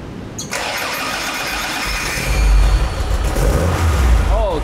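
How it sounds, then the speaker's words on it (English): A car engine cranks and catches after its throttle linkage is tuned, then settles into a loud, rumbling idle with a deep low throb close by. "So now I'm going to first start the engine after tuning"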